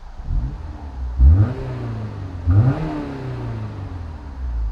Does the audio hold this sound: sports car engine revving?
yes